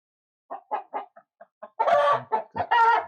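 Orpington chickens cluck close by in a series of short, irregular clucks, building to a few louder, drawn-out calls near the end.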